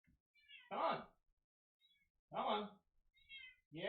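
A pet cat meowing indoors, two loud drawn-out meows with a shorter call between them and another starting at the end, with faint human sounds in the gaps.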